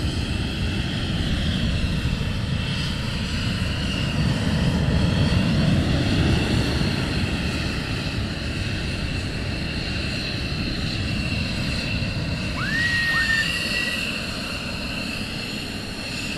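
A military jet taxis at RAF Lakenheath during a morning launch, its engine a loud continuous roar and whine holding steady nearby, with a brief rising squeal partway through.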